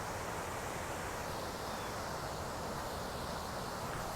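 A big waterfall cascades below a dam along the Appalachian Trail, making a dense, unbroken roar that holds steady and loud throughout with no voices.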